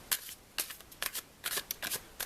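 A deck of cards is shuffled close up, with quick riffling bursts repeating in an uneven rhythm and no talking.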